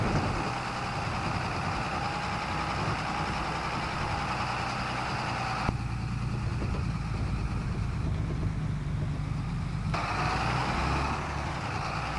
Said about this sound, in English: Ooh, this tractor is struggling to get up the hill.